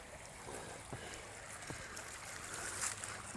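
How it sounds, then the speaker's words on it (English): Running water trickles and burbles steadily, a soft, continuous stream heard at a quiet level with no voices. "Bubbling brook."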